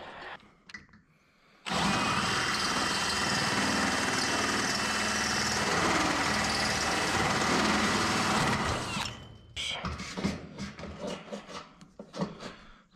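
A power drill whirs loudly and steadily for several seconds, biting through a metal roof ridge cap, then stops, followed by scattered clanks and handling noises.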